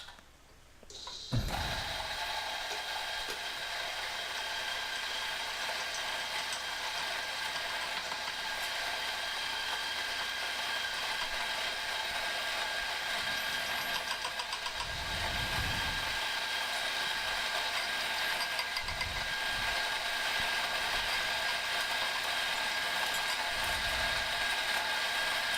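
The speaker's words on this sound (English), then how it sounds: "So just a note on grinding with a grinder such as this." A burr coffee grinder grinds beans very fine for Turkish coffee, a steady continuous whirring and rasping mechanical drone that starts after a brief quiet moment and runs at even loudness throughout, with no talking.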